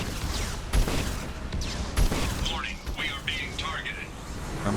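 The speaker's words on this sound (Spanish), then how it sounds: "Vamos a intentar escapar de los disparos." Sharp cracks of gunfire from the Mass Effect 2 video game punch through at intervals, with a few isolated loud shots over a busy game soundscape and someone talking throughout.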